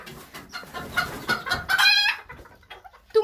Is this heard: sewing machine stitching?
no